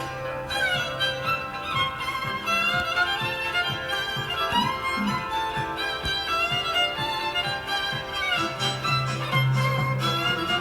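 A recording plays as continuous instrumental music with a steady beat and bright fiddle-like melody at moderate volume.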